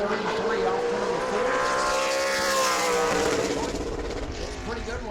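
A super late model race car comes off a turn with a loud, sustained engine wail whose pitch sweeps up and then eases back, close and continuous, with a commentator talking over it.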